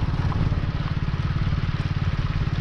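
A motorcycle being ridden, its engine thumping in a close, rapid, steady low pulse, loud and continuous with no talk.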